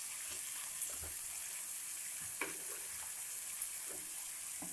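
Bitter gourd frying in a pan with salt and turmeric, stirred with a spoon: a soft steady sizzle with a few scraping taps and clinks from the utensil, fairly quiet, no talking.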